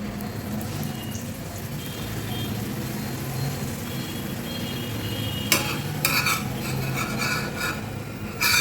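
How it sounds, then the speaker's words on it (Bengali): Paratha fries in oil in a pan with a steady low sizzle and occasional scraping stirs, joined near the end by louder clattering bursts; no talk over it. "এভাবে তেল দিয়ে আমি ভেজে নেব"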